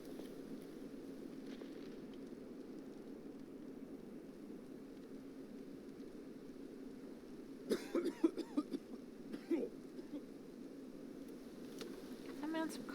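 A man in the Batman Telltale video game coughs in a brief cluster of harsh, rasping coughs, then once more faintly, over a steady low rumbling background.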